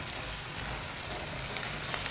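Curry leaves are tossed into hot oil for a tomato chutney, giving a steady, faint hiss of sizzling that holds unbroken throughout, with no voices.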